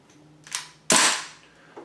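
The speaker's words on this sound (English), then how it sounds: "I do want to show you the functioning blowback." A BB rifle's blowback action cycles with an empty magazine: two sharp, close, loud pops, the second louder and longer, each followed by a quick decay.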